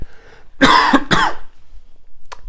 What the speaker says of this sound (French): je vais juste tousser.